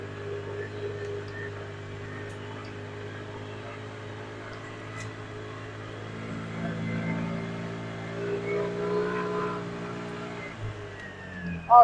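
An SSR Bison 200 golf cart climbs a hill in low gear at about ten miles an hour, its steady motor whine and hum swelling slightly louder toward the end, with no talk.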